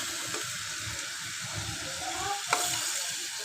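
Onion and garlic sauté in a pan for pork adobo, giving a steady mid-level sizzle with occasional stirring scrapes and a small clack partway through.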